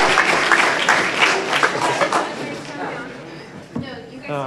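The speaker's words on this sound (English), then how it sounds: "let's give them all a round of applause" Audience applause at a Montgomery County Board of Commissioners meeting, a dense room-wide clapping that swells and holds for several seconds, then thins as a voice speaks and chairs or feet shuffle near the end.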